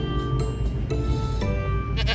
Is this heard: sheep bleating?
yes